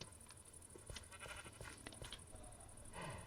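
Minecraft sheep bleat in short, quiet bursts over soft game ambience, with light steps and clicks between the calls.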